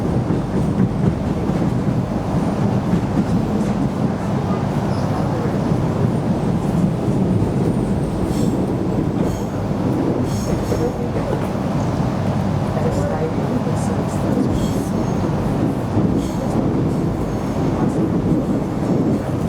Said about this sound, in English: And this is the train. It's heading into a turnback siding.